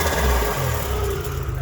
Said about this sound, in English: Give her a good little rev and a watata.